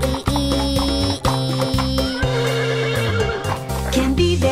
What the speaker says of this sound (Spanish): ¡Vive un caballo! ¡El caballo! ¡I, i, i, i, i, i!